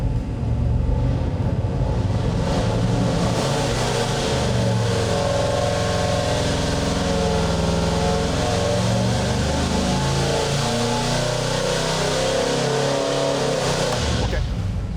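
Twin big-block engines running together on a dynamometer during a partial throttle pull, a loud sustained roar with shifting engine tones that holds for nearly the whole span before cutting off near the end, voices faintly present underneath.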